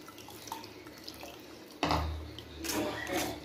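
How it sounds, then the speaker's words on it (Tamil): Water is poured into grated beetroot pulp in a bowl while making beetroot halwa, a short splashing gush that starts abruptly and swells again briefly after soft background sounds. "தண்ணி ஊற்றிக்கலாங்க."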